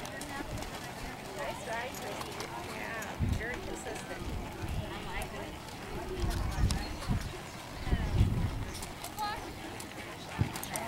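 Horses walking at a horse show event, their hooves clip-clopping faintly and irregularly on the ground through a busy, noisy arena background, while an announcer's voice is heard over the scene.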